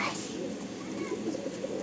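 An Andhra Lalsira Fulsira Dobaj Kalanka pigeon coos softly and low, a faint murmur against a steady background hiss.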